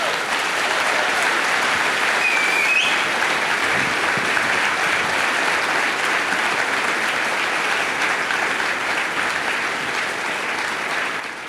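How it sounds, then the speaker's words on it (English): Sustained audience applause for a panel at a discussion event, steady and dense across the whole stretch with no voices over it, tapering slightly at the very end. "Please give them a round of applause."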